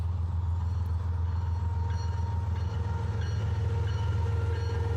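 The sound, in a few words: Pan Am Railways grain train passing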